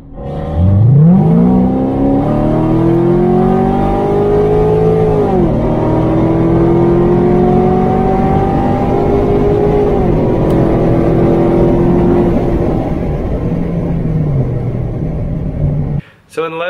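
Two cars drag racing side by side, a Cadillac CTS-V on slicks against a stock Corvette C7 Z06, their engines roaring loud and close as revs climb through rising gear pulls, then cutting off abruptly near the end.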